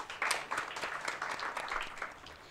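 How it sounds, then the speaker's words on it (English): A small audience clapping, light scattered applause that gradually thins out. "may I request all of you to welcome Malik with a round of applause"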